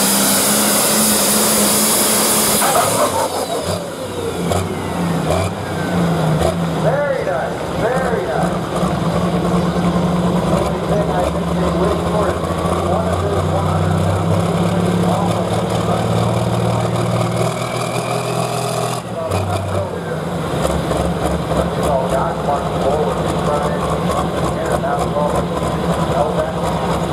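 A Super Stock pulling tractor running a John Deere engine, from Boonesboro, Maryland, roars under load at a tractor pull, loud and continuous with rising and falling pitch as it works, while an announcer talks over it.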